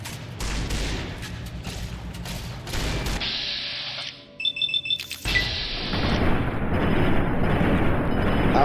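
Gunfire and explosive booms from the video game Fallout New Vegas, a dense stretch of loud blasts with a brief high alarm-like tone and a burst of rapid shots in the middle.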